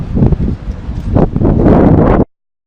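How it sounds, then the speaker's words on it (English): Wind buffeting a microphone outdoors, a loud rumbling roar with gusty surges lasting about two seconds before cutting off abruptly. "it's really hard to hear because of the wind"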